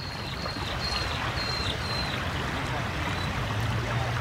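Floodwater rushes down the Brisbane River in a steady, broad watery roar near the shore, continuous and fairly loud, with faint bird chirps above it.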